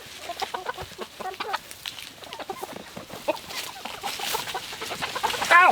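Chickens and a rooster clucking around a feeder, a dense, close run of overlapping clucks and short calls that grows slightly louder toward the end, with no talking.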